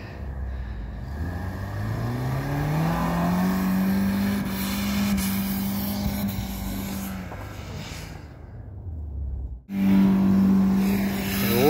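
A stock Chevrolet Niva engine revs hard while pushing through about 40 cm of deep snow, a loud rising and falling drone that dips briefly near the end before surging again, with no talking.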